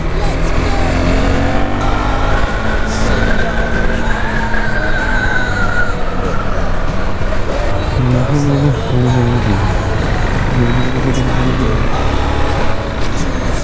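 A motorcycle on new tires accelerates on a road to overtake another vehicle, its engine drone rising in pitch over steady wind rush and nearby traffic noise, loud and continuous.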